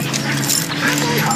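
A dog whimpers and yips in short high whines, close and fairly loud against a busy background.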